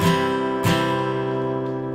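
Two strong strums on a guitar in a waltz strumming pattern, the second about two-thirds of a second after the first, with sustained ringing chord tones fading between them, close and alone.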